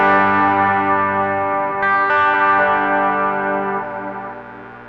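An electric guitar played through a Valeton GP200 multi-effects unit with reverb rings out sustained, distorted chords that swell and then fade slowly into a lingering reverb tail, loud and alone.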